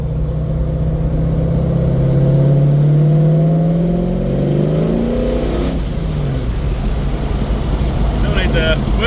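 A car fitted with a Godzilla engine swap cruises steadily, its loud engine drone rising and falling with gear changes, close and continuous throughout, with a brief voice near the start.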